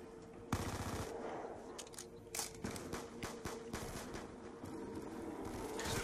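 Rapid automatic gunfire and shots from Black Ops 2 Zombies in a Grief match on the Farm map, dense and continuous across the clip with sharp bursts standing out over a steady rattling bed.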